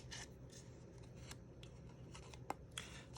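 Scissors snipping angle cuts in paper while making a small craft box, a series of short, quiet snips at an uneven rhythm, close by with no talking.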